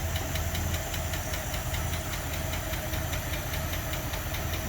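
A Packard engine idling with a rapid, steady lifter tick over a low, even rumble, close and continuous with no talking.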